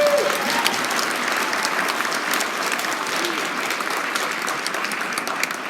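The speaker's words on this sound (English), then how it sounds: "Can you give them another big round of applause?" Audience at a school spring concert applauding soloists, a sustained, even roar of many hands clapping that holds steady throughout, with a faint voice beneath it.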